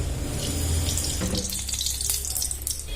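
White cooking oil poured into a hot pan, with a steady rushing, splashing pour that runs unbroken and fairly loud for the whole stretch, and light sizzle and crackle on top.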